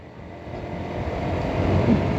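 A motorcycle rides along a smooth road, its engine hum and wind noise steady and gradually growing louder, with no talking.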